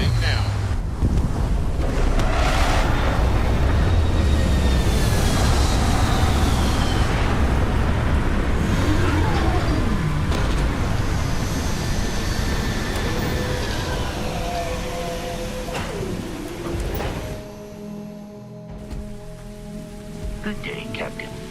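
A spaceship touches down in Starfield, a broad roaring rush like heavy wind or rain that holds steady and loud, then thins out near the end as tonal whines and beeps emerge, with faint speech mixed in.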